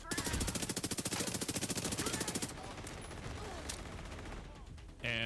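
A belt-fed machine gun in Division 2 fires a long, fast, even stream of loud shots for a couple of seconds, then stops, leaving scattered distant gunfire and a sharp mechanical click at the end.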